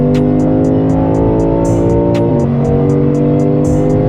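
Lexus IS 500 V8 engine revving hard under acceleration, a loud, steady throaty roar with a brief pitch drop at an upshift midway, then pulling on strongly, close and alone with no talking.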